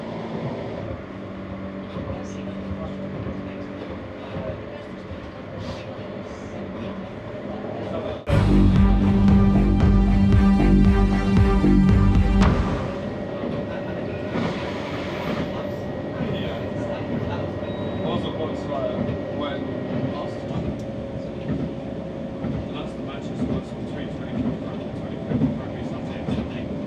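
Edinburgh tram running from the airport, a steady rolling rumble with a loud, harsh burst of rail noise lasting several seconds partway through, then continuing more quietly with a voice talking over it.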